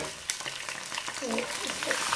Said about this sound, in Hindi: अब इसमें जाएगा जी चिकन। ठीक है, तो इसको डाल देते हैं।